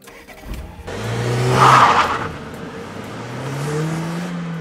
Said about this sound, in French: On est sur un 2 litres, 16 soupapes de 165 chevaux.